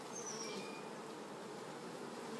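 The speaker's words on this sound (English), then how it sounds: "Bees are still coming out of it." Bees emerging from a cone extraction fitted on a hive give a steady, close insect buzz that runs continuously and alone, with a few faint higher whines drifting through.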